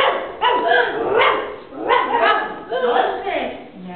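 A huge dog barks from behind a fence, several loud, close barks in an uneven rhythm, each burst spaced by brief pauses.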